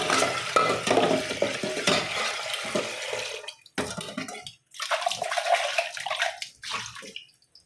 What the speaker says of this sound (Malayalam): ഞാനിത് ഓരോന്നായിട്ട് കഴുകി കാണിച്ചു തരാം